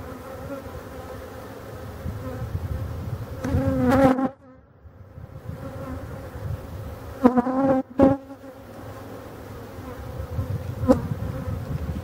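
Honeybees hum in a dense, continuous drone around a strong hive swarm as a super is being added, near and steady, with a few brief dips and sharper buzzes as bees pass close.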